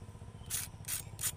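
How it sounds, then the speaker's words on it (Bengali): Crispy fried stuffed taro leaf pakoras crunch three times in quick succession, each bite a sharp, close, brittle burst against a quiet background. "পকোড়াগুলো কতটা মুচমুচে ক্রিপসি হয়েছে দেখুন।"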